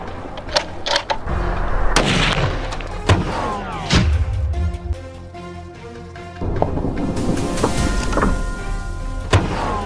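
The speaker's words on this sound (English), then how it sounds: "pulled the trigger. The explosion echoed throughout the mountains." A sharp gunshot booms and rolls away in echoes through mountains during a wild boar hunt, set within dramatic music and other heavy impacts, loud and reverberant.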